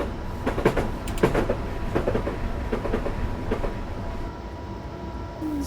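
Train running on rails in the Train Simulator 2015 game, nearing Brighton, a steady rolling rumble with repeated clickety-clack wheel beats over rail joints, loud and continuous with no voices.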